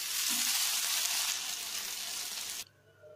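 Kuthiraivali millet tomato dosa cooks on a hot pan with a dense, even sizzle that cuts off abruptly near the end, leaving quiet.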